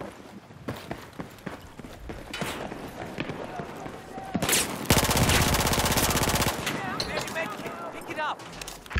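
Gunfire in the video game Battlefield 4, with a rapid burst of shots over clattering footsteps and game noise while a voice talks.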